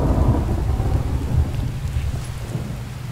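Thunderstorm in a survival video game, with a steady roar of heavy rain and a low rumble of thunder swelling near the start, continuous and loud throughout.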